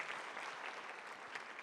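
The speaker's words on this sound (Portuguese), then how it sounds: "Vamos dar um aplauso para os nossos atores aqui." Faint, even applause from an audience for actors during a sermon-style talk, a soft continuous patter of many hands with no voices standing out.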